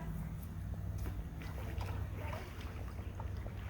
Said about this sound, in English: Paddling with one hand and filming with the other.